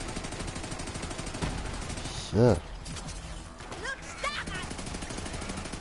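Rapid bursts of gunfire from the Infinity gun in Borderlands 3 on PS4 crackle under a continuous busy game soundscape, with a short spoken word in the middle.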